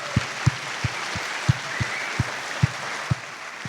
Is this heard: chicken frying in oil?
no